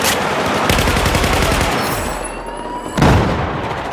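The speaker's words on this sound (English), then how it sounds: "That's terrible shooting." Rapid bursts of automatic gunfire in Battlefield 4, loud and close, with a heavy blast near the end.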